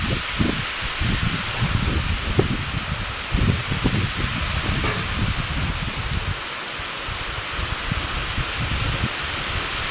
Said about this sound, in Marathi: पाऊस खूप जोरात सुरू झाला आहे आता